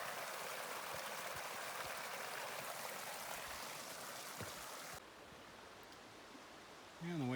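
A mountain creek flows steadily near Old Goat Glacier in the Kananaskis Rockies, a broad rushing water noise heard close and fairly loud that drops suddenly partway through, with faint wind at the end.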